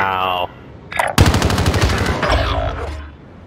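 Modern Warfare hardcore Search and Destroy gunfire: a rapid automatic burst of loud, close shots rattling for about a second, trailed by further rounds and a shorter tail, with brief game noises before the volley.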